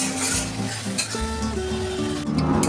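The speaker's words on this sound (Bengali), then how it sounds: "মশলাটা কষাচ্ছি।" Spice masala for chana dal ghugni being sautéed in a pan over medium heat, a steady close sizzle with a spoon scraping and stirring through it, and faint background music underneath.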